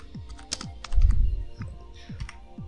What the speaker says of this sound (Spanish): Nos vamos al buscador de Windows. Escribimos bloc de notas.